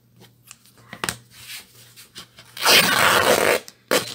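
Scissors snip cotton fabric for a notebook cover in a few short crisp cuts, followed by a longer, louder rasping pass through the cloth, close up and with no talking.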